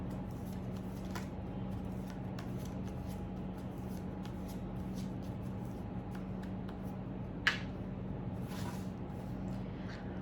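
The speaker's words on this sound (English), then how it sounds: "Let me just shuffle the cards for you." Soft, steady riffling and sliding of tarot cards being shuffled over a low hum, quiet and close, with one sharper snap partway through.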